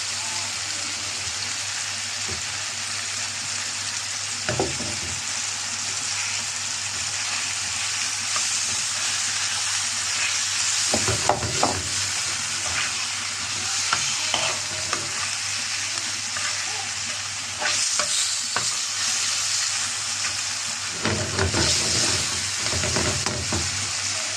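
Chicken or beef liver frying in a pan, flipped onto both sides as it cooks, giving a steady loud sizzle with several sharp bursts of spitting when pieces are turned over.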